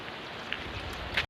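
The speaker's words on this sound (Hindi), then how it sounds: "बारिश तो सुबह से ही लगी है दोस्तों।" Steady rain falls outdoors on a village road in the hills, a continuous close hiss with a couple of brighter drop splashes, ending abruptly.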